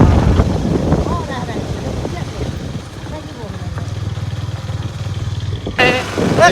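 A motorcycle rides along in Sivasagar, its low engine throbbing steadily and close throughout with some clattering, while people talk over it.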